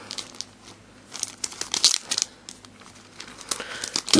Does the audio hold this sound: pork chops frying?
no